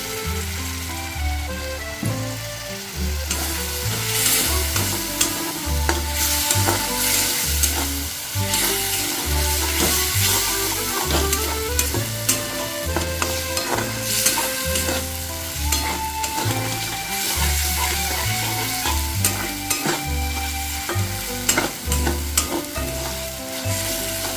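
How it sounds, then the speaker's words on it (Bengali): An egg and eggplant mixture fries in a pan with a little added water while a spatula stirs it: steady loud sizzling under repeated rhythmic scraping and knocks, close by, with no talk. "দিয়ে ভালোভাবে আবার এটা মিশিয়ে নিচ্ছি লেগে যাচ্ছিল তাই আর একটু জল দিয়ে দিলাম"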